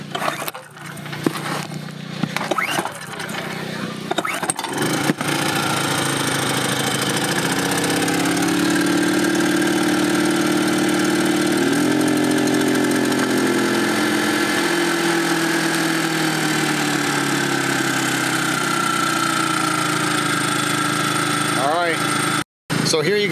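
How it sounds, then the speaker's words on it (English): A portable generator starts after a few clunks and handling noises, then settles into a loud, steady engine drone that runs close by, with the load shifting slightly partway through. "So I'm gonna just start up the generator."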